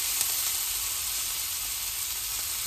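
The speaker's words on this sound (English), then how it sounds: "So just slightly scrape the bottom of your pan to release those juices" Chicken sizzling in a metal pan as the bottom is scraped to lift the juices, a steady bright hiss with faint scraping, fairly quiet and with no talk.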